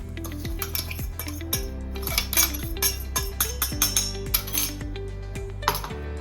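A spoon scrapes and clinks around a pot as puffed grains are stirred into cooked porridge, with repeated metallic knocks and scraping in a steady rhythm, close and moderately loud, no talking.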